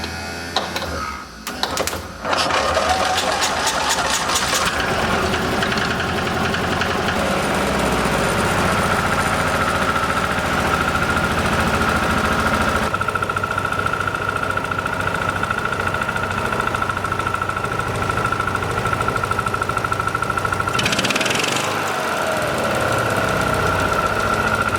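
Engine of an Argo amphibious vehicle with a freshly welded exhaust and new clutch parts, catching after a few uneven bursts and then idling continuously with a rough, knocking mechanical clatter.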